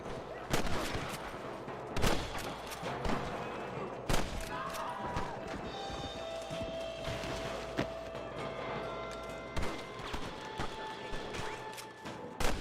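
Gunfire at rustlers in Red Dead Redemption, a steady run of sharp shots spaced roughly every couple of seconds over a busy game backdrop with hoofbeats and mixed noise.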